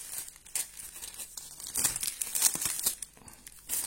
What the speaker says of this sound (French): Donc là on scotche pour pas qu'il y ait d'air qui passe.